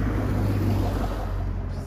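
Steady low rumbling wind buffeting a microphone, continuous and close throughout with no clear voices.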